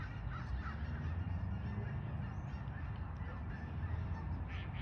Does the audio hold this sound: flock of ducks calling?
yes